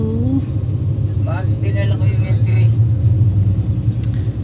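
Road traffic in San Fernando, Pampanga, near a busy mall: a continuous low rumble of car engines idling and creeping past, loud and close, with a brief voice at the start.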